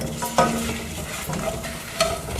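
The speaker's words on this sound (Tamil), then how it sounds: "இப்போது இந்த வரமிளகாய் போட்டுக்கலாங்க. அப்புறம் சீரகத்தையும் போட்டுக்கலாம். இது எல்லாத்தையும் நல்லா வறுக்கணுங்க." Dried red chillies and cumin seeds roast in a pan for sambar, giving a steady close sizzle with a few sharp stirring scrapes, and no one speaks.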